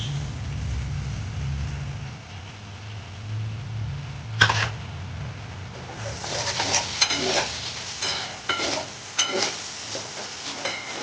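Chopped tomato going into a frying spice paste for a Bombay duck fish curry: a low hum gives way to a sharp clatter, then close sizzling with irregular stirring scrapes, and no voices.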